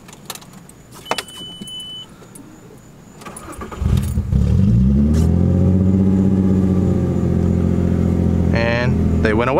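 A VW Mk4 GTI with a mass airflow sensor fault starting up: key clicks and a chime, then the engine catches and settles into a loud, steady idle up close.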